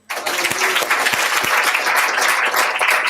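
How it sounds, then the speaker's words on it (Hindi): A church congregation breaks into applause, a sudden burst of dense, close hand clapping that holds steady and loud for a few seconds. "इन सबको ताली मारो।"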